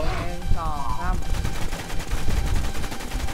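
Gunfire in the WarZ video game comes in dense, rapid automatic bursts that run almost continuously at close range, loud and sharp, with voices talking over the shooting.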